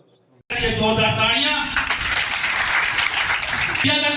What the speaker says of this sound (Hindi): मंगू शाह के लिए एक बार फिर जोरदार तालियां